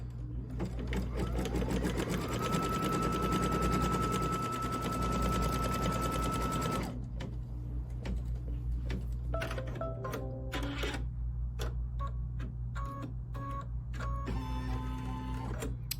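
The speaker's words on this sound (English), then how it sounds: "Now we're going to do our background quilting, and I'm going to do it in white." A Kimberbell embroidery-style sewing machine runs white background quilting, a loud, continuous mechanical whir with rapid needle chatter, shifting after a few seconds into shorter start-stop bursts of stitching.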